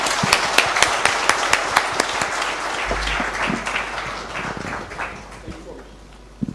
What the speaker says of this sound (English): Can we please have a round of applause for our speaker?